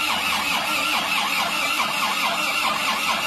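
A Suzuki Panther pickup engine with low compression and heavy blow-by is started and runs, making a loud, continuous churning roar that holds steady without pauses.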